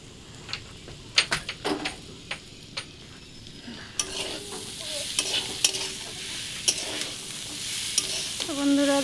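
Spice masala being stir-fried (kosha) in a pan, with a spoon scraping and stirring in uneven strokes over a steady sizzle that grows brighter midway, no voices.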